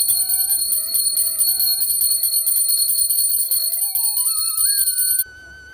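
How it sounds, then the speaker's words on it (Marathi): A hand bell rings steadily and loudly during home aarti worship, its bright metallic tone continuous for several seconds under a wavering sung or hummed tone, then it stops abruptly near the end. "मी एकटीच असल्यामुळे एका हाताने घंटा व एका हाताने मी आरती करत आहे."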